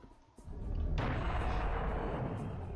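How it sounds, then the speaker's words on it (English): A cannon in Serious Sam: The First Encounter fires one loud, close blast. A sharp thump is followed by a heavy booming roar that sustains and slowly fades, with no talking. "fuck it, use the cannon"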